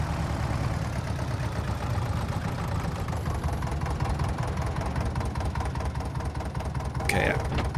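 A tractor engine idles steadily at low volume, a continuous rumbling chug beneath some quiet talk, with a short bright clatter near the end.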